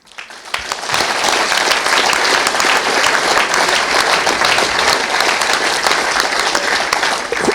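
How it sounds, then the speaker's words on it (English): A loud crowd bursts into applause at Vale Park, Port Vale's football ground, rising sharply after a brief quiet start and then holding dense, sustained clapping close and strong to the end. "So a big round of applause for all those, please."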